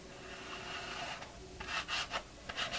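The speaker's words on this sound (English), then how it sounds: "You kind of just put the paint on the edge and then saw it back and forth on your page." Paint being scraped back and forth across an altered book page, a quiet close dry rubbing with a few soft strokes in quick succession near the end.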